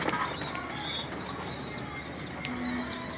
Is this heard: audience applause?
no